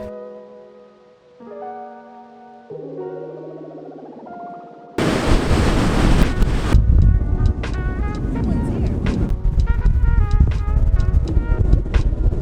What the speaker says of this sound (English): It's so windy. crazy wind.